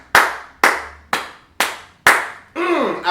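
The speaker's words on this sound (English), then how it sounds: "in the end, it gets a round of a mother applause, baby." Five slow, loud, evenly spaced hand claps ring close and sharp, followed at the end by a voice speaking.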